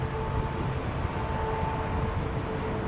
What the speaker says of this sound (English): Hear those engines purring away.